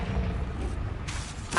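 A Confringo blasting spell goes off in Hogwarts Legacy, heard as a booming, rumbling explosion with sharp bursts of impact near the middle and again at the end, set against constant noisy game background.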